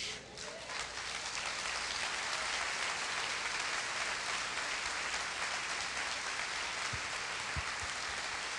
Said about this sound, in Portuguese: Você pode aplaudir mais forte ao Senhor nesta manhã?